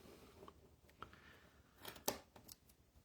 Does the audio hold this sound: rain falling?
no